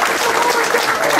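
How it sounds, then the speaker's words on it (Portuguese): Dense, close audience applause at a political debate meeting, a continuous loud patter of many hands with no pauses. "Uma salva de palmas para o Zé Pedro."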